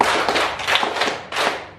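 A group claps hands in a quick rhythmic pattern in a classroom, sharp close claps in short bursts with a brief pause before the final beats.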